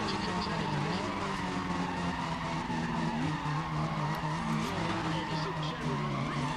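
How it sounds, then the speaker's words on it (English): Drag race car in the Need for Speed video game, its engine roaring loudly and continuously while tires skid and squeal throughout, with game sounds layered over it. "just listen to the raw madness of that engine"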